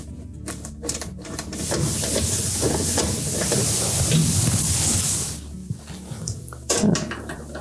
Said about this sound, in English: Put our screws back in.